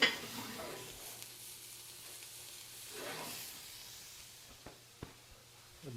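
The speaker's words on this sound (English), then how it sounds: "So skillet's hot, I think. Ooh, good sound. Hot skillet sound." A hot skillet sizzles steadily at close range, a soft continuous hiss with a few swells and small pops, quiet overall.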